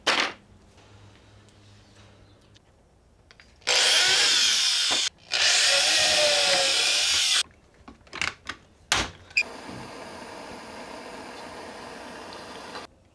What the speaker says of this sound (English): Now I just got to rivet it all together and throw straps on it.